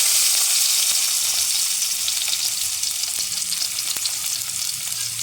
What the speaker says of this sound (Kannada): ಜೀರಿಗೆ ಇಂಗು ಹಾಕಿದ ಮೇಲೆ ನಾನು ಇದಕ್ಕೆ ಬೆಳ್ಳುಳ್ಳಿ ಎಸಳನ್ನು ಹಾಕ್ಕೊಳ್ತಾ ಇದ್ದೀನಿ.